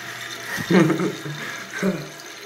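Fill valve in a 1989 American Standard Cadet toilet tank refilling, a steady hiss and trickle of running water up close with brief louder gurgling bursts, under a person's voice.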